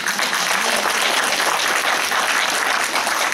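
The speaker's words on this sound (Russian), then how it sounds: "Еще раз похлопаем." An audience at an academic conference applauding after a talk: loud, steady, close-sounding clapping that fills the whole stretch without a break.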